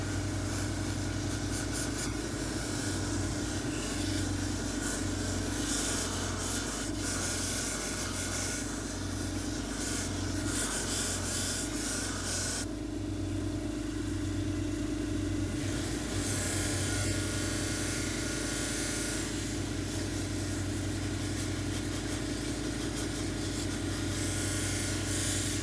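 A cabochon stone is ground against a spinning grinding wheel, giving a steady, close abrasive rasp and hum that runs without pause and dips slightly in brightness midway, with no talking.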